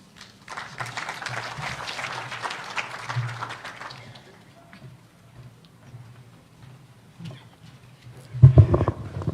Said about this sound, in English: Let's give the DG another round of applause.